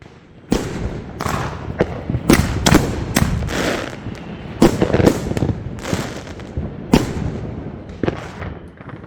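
Neighborhood fireworks bursting all around, a rapid series of loud sharp booms and crackles at irregular intervals, some near and some farther off, with no talking.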